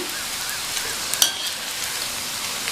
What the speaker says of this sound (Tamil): பக்கோடாவை கிள்ளி போட்டதுக்கப்புறமா ஸ்டவ்வை மீடியம் ஃப்ளேமில் வச்சுட்டு கொஞ்சம் நேரம் கழித்து பரட்டி விடணும்